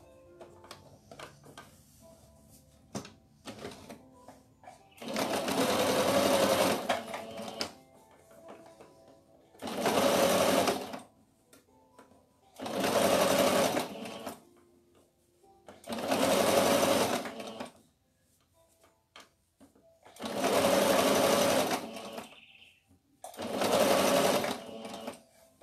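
Sewing machine stitching a hem on small cloth-doll clothes: six bursts of steady whirring, each lasting a second or two, separated by short pauses filled with quiet handling noises.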